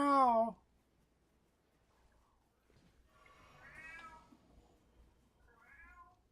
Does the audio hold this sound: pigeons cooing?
no